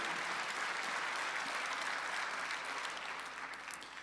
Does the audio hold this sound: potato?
no